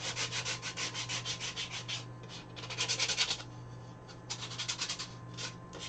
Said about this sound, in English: I'm just sanding the rough edges.